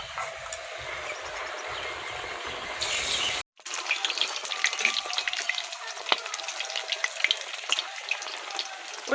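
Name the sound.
fish roe pakoras frying in oil in a wok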